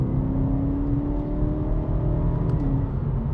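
A BMW E92 M3 GTS engine hums in a strong, steady drone close by, holding an even revving tone for a few seconds with no voices over it.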